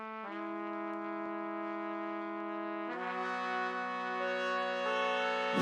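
Sampled trumpets from the free VSCO2 Orchestra virtual instrument hold bright, sustained brass chords that shift to a new chord midway and stay steady and full, with no voices.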